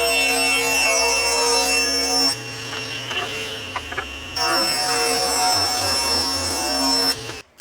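A power saw rips a 3/4 inch wooden board lengthwise for desk back supports, a loud sustained whine with a steady high tone that drops away briefly midway before resuming and cutting off at the end.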